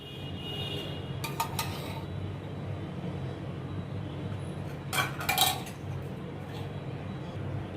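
A pan is set down on a gas stove with a couple of brief metallic clinks and clatters, one near the start and another midway, over a low steady hum of the kitchen.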